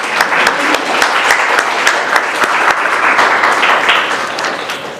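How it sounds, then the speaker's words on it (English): A room full of people gives warm applause at a UNESCO media literacy event on AI, a dense, loud wash of overlapping claps that holds steady throughout. "So please, a warm round of applause for them."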